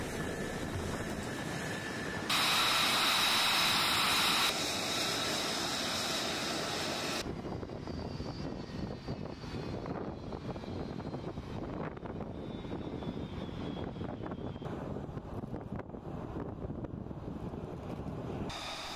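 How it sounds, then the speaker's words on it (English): F-35A fighter jets landing at RAF Lakenheath, a steady broad roar of jet engines with wind-like rushing, loudest early on with a brief bright whine, continuing alone without voices. "As the Valkyries F-35 landed"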